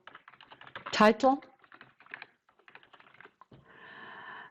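Computer keyboard typing while setting up a Microsoft Teams live event, quick light key clicks in short bursts between a man's speech, with a steadier run of tapping at the end.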